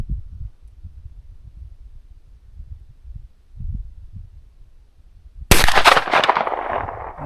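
A single loud gunshot from a 10mm woods load fires sharply out of a quiet low rumble, its crack decaying over about two seconds.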